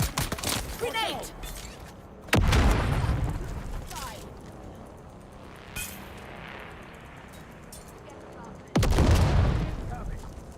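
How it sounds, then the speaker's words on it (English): Grenade blasts in the video game Dune Awakening, two loud booming explosions with a sharp onset and rumbling tails, several seconds apart, with softer gunfire between them and voices shouting in the background. "Grenade!"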